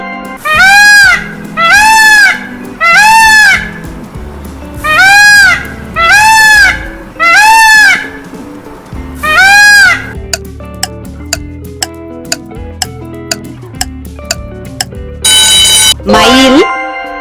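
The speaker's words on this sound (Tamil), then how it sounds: "மயில்," Peacock calls in an animal sound guessing game: six loud, piercing wailing calls repeated at a steady rhythm in the first ten seconds, then a stretch of music with tinkling notes and a bright chime at the end; no talking.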